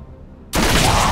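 Gunfire from a weapon in the Heroes of the Storm video game bursts in abruptly after near silence, then continues as a loud, dense, sustained volley.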